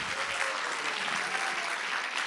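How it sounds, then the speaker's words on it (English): A student audience at a presentation event claps together, a continuous, fairly loud patter of many hands with no break. "So give them applause, please"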